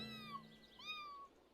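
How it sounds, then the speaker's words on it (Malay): A small kitten gives two faint, high-pitched meows, one short and one longer, in a quiet room. "anak kucing je"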